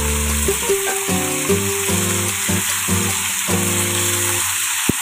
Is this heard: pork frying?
yes